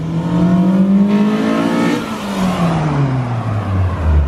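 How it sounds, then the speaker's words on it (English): A Honda Civic Si's B-series engine with a cold air intake revs hard and climbs in pitch, then the tone drops and falls away as it eases off; loud, close, with a raspy intake roar. "Once you get the cold air intakes on these things, they really scream."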